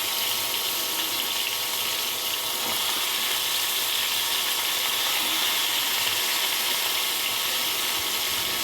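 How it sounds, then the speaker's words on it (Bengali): Pointed gourd and potatoes frying in hot oil give a steady, close hiss and bright sizzle that stays even throughout, with no talking. "তো এই তেলের ভিতরে এখন আমি পটল আলুগুলো ভালো করে ভেজে নেব।"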